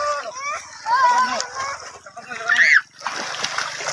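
Water splashes at a river as people wade and play, bursts of sloshing mixed with children's voices and chatter close by, including a high excited cry near the end.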